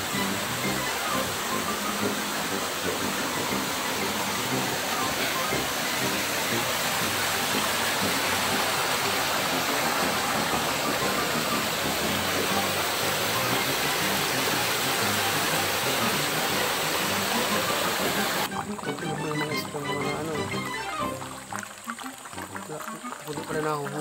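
A river in Barangay Malatap, Labo, Philippines rushes steadily and loudly, a continuous broadband roar like a cascade, nearby and unbroken throughout.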